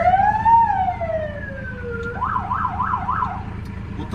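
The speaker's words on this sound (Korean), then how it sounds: "사이렌 점검" A Geumsan 119 safety center fire engine water tanker's siren is tested. A loud electronic wail rises and falls, then switches to several rapid yelping cycles, with the truck's engine idling underneath.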